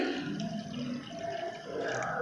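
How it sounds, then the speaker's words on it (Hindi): Around a cup of water pours steadily into a small steel pan holding plums, a continuous splashing rush running the whole way through at moderate loudness. "इसमें हम 1 कप के करीब पानी डाल देंगे।"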